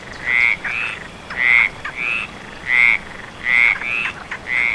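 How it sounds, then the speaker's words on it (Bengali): Frogs croak outdoors on a rainy night in steady, evenly spaced bursts, about six loud double-pulsed calls repeating close by with a soft hiss between them. "আর চারিদিক থেকে অনবরত ব্যাঙ ডেকে চলেছে।"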